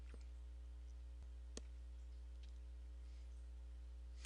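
A few sharp, faint computer mouse clicks, isolated and spaced apart over a steady electrical hum.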